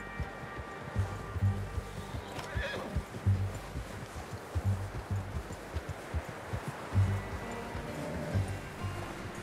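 Horse in the video game Red Dead Redemption 2 whinnying and neighing while hooves clip-clop steadily underneath, set against a busy outdoor ambience.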